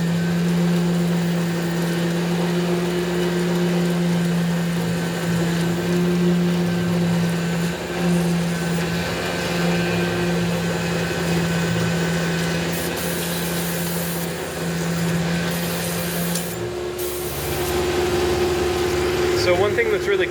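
Milling machine cutting Paramilitary 2 knife handles with its coolant pump running, a steady droning hum and whine with constant machine noise throughout, a brief change near the end, fairly loud and close.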